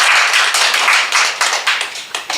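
A room full of people at an election debate claps loudly and continuously, the applause thinning into scattered separate claps toward the end.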